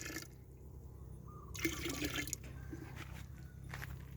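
Homemade liquid hormone poured into a tub of nearly fifty litres of water on a home garden farm: a soft trickling, splashing pour with a brief louder gush midway, close and fairly quiet.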